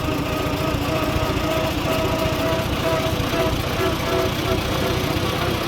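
A Farmall Super A tractor engine lugs down in third gear with a steady, rapid, low chugging beat, close and continuous throughout.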